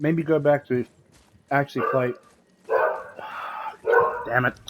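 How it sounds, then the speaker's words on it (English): A dog barks several times in short, loud bursts in the same room while someone talks over and between the barks. "Apologies about the dog."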